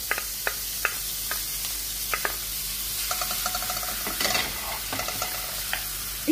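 Garlic fries in oil for a Tunisian red pasta sauce, with a soft, steady sizzle under scattered utensil clicks and a few short rattling scrapes near the end.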